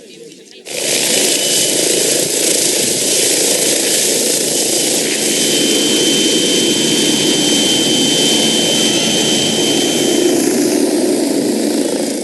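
A $2 million helicopter's engine and rotor roar loud and close with a constant whine, starting abruptly after a short quiet moment and holding steady to the end.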